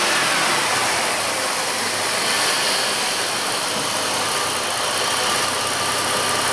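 A Jeep Liberty engine idles steadily while warming up after a flood, giving a loud, even, continuous hum close by with no skips or misfires.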